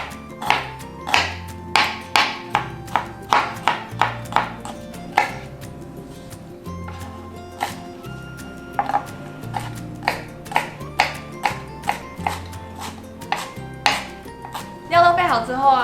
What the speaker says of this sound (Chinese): 香菜呢切成小段状。